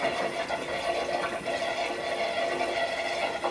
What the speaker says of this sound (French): Pour faire le vide, je vais d'abord devoir allumer l'eau.